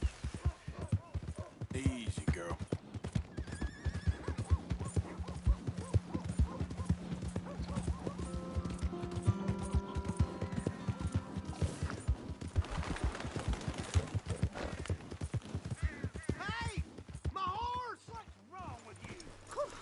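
Horse hooves clip-clop in a steady rhythm across a Western scene in Red Dead Redemption 2. A horse whinnies briefly and distant gunfire bursts sound in the background, while people talk over much of the action.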